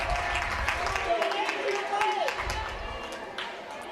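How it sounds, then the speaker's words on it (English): A crowd applauds after a high school wrestling bout between Minneapolis Lions and Beloit: a steady, moderately loud wash of clapping and gym chatter with voices mixed in throughout. "Just looking around and watching all the people applauding."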